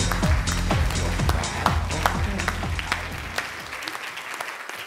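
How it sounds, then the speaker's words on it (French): Audience applause at a conference event, many hands clapping loudly at first with some scattered sharp claps, then thinning and fading out toward the end. "Et on peut les applaudir bien fort s'il vous plaît."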